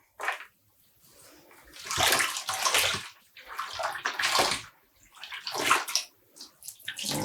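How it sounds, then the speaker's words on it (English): A skein of yarn being dyed at home is dunked and sloshed in a basin of water, making repeated splashing, swishing bursts with short quiet gaps, close and moderately loud. "dunking it in the water like this is actually one of the best ways to detangle the skein"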